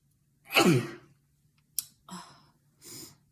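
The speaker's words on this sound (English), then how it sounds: "I have ugly sneezes." One loud, sharp sneeze bursts out close up, followed by a click and two short breathy exhalations.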